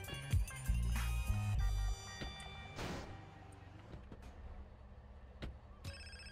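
A phone rings in the video game GTA San Andreas Definitive Edition, with a ringtone heard over a loud rumble of engine and game sounds that fades to a quieter background.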